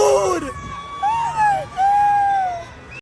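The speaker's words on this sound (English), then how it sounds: "She's just screaming at the top of her lungs." A girl screams at the top of her lungs on an amusement park ride at Clementon Park, with long, high, wavering shrieks close by and other riders' cries mixed in.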